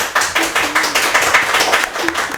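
An audience applauds a student team from the ISTC communication institute at a school quiz competition, loud close rhythmic clapping in quick, uneven bursts from a small crowd.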